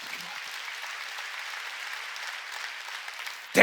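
A church congregation applauds during a Korean Sunday service, a steady wash of clapping that fills the moment at a moderate level before cutting off sharply.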